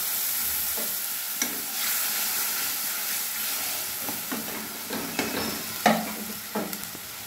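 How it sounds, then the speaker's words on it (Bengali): Ground spice paste hits hot oil with whole tempering spices for a Bengali rui fish curry, sizzling steadily up close while a spoon scrapes and stirs in short bursts. "ফোড়নটা ভেজে নিয়েছি, এবার বাটা মশলাটা আমি দিয়ে দিই।"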